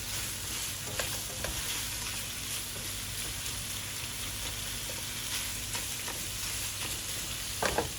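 Bacon crackles in a pan with a constant, dense sizzle like light rain, scattered pops standing out, steady and fairly quiet for the whole stretch.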